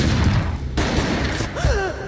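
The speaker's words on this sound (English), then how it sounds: "A gunshot boomed and she fell down in slow motion." A single sharp gunshot booms out in the Max Payne video game, a heavy burst that cuts through a bed of moody background sound, followed by a brief vocal sweep.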